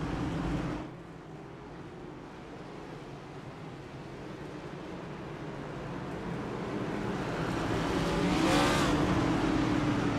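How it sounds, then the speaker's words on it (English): Race cars pass through a chicane at a Moonshiners Racing League event, a steady rumbling engine roar that swells as cars draw nearer, with a sharper whine from a car passing close near the end. "see the cars coming through the chicane right now"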